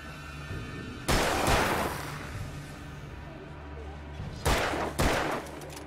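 Gunfire in the Alan Wake video game, two loud bursts of shots about three seconds apart, rising over a steady game ambience with a noisy, rumbling background.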